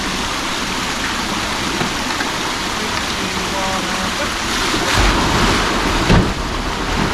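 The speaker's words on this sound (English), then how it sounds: "Starting to fill the dry dock again with water." Steady, loud rushing of water pouring into a canal dry dock, a continuous broad roar like a torrent, with faint voices underneath.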